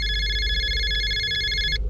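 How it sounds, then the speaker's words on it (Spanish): A telephone rings again with a bright, continuous electronic trill that stops abruptly at the end. It is loud and close, over a low background hum. "Volvió a sonar el teléfono."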